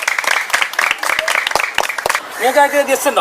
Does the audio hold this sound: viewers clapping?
yes